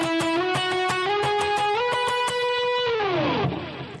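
Electric guitar playing octave shapes from a song's solo, without wah, distorted and sustained, with picked repeated notes stepping up in pitch before a long downward slide at the end.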